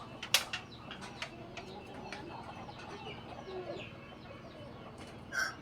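Free-range village chickens in a rural Lao riverside settlement, with scattered soft clucks and calls near and far over steady outdoor background noise and a louder burst near the start.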